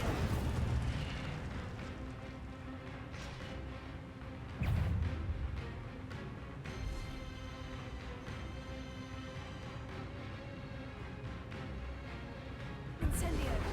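Incendio fire spells cast in a wizarding game burst out in several sharp whooshing blasts over a low rumble, with speech heard between the casts.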